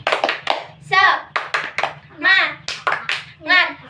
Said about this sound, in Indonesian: Sebelumnya kita tepuk semangat lagi ya, biar semangat.